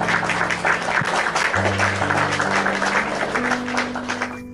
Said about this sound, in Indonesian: Tepuk tangan buat Alia yang cantik dan manis.